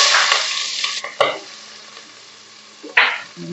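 Oil sizzles steadily in a pan as onions fry and are stirred and tossed, with a couple of sharp scraping bursts; close and fairly loud, no talking.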